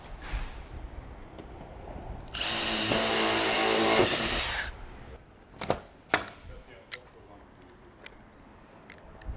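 A power drill whirs for about two seconds while riveting metal roof ridge capping, then several sharp rivet pops and clicks follow, close and isolated.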